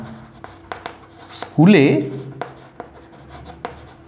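Pen strokes scratch across paper while a math teacher works a percentage problem, a close, soft scribbling under steady Bengali speech, with one louder stretch of talk in the middle.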